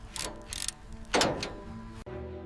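A ratchet strap being tightened on a Renault Type A gives quick mechanical ratcheting clicks in short bursts, a louder grinding crank, then a sharp snap, close up and moderately loud.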